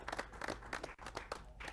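Light, scattered clapping from a small crowd at a casino poker tournament final table, faint and patchy, in quick uneven bursts over a couple of seconds.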